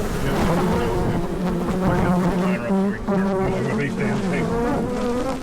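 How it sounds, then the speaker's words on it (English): A swarm of killer bees buzzes loudly and continuously at close range, a dense droning hum with wavering pitch as many insects fly around near the listener. "Whoa, boy, killer bee nation. Hey, these are real dangerous bees."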